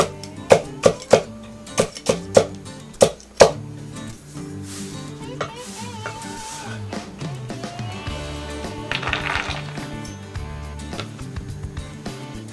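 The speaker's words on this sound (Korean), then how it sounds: "가장 먼저 줄기콩 끝을 잘라준 후 듬뿍 썰어줍니다." A knife cuts green beans on a board in a quick run of about ten sharp, close chops, followed by quieter scraping and shuffling sounds.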